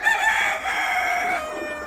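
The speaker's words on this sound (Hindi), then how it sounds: "ये देखो एक मुर्गी अभी अंडा दे रही है।" A desi hen calls loudly while laying an egg, giving one sustained, strained cackle that rises and holds, close by with no talk.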